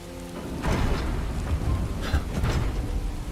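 Rain in a video game falls in a steady wash of noise with low rumbling swells, a dense continuous patter with no voices.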